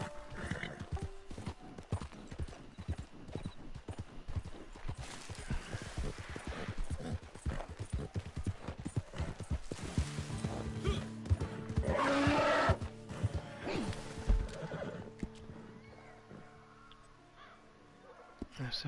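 In the video game Red Dead Redemption 2, a horse's hooves clip-clop in a steady galloping rhythm with a brief whinny partway through, while someone talks over it and game music plays.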